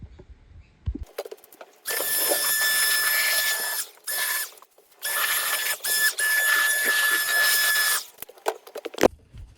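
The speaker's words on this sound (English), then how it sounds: "So what I need to do now is get a blower vac and" A blower vac blowing dust off painted furniture runs in two loud sustained bursts of high motor whine, each cutting off abruptly, with quiet handling noises between.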